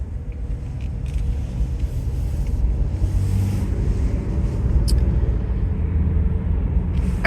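Dodge Durango GT on Nexen Roadian ATX all-terrain tires cruising along a road, a steady loud low rumble of engine and tire noise from inside the cabin with faint wind, with no talking.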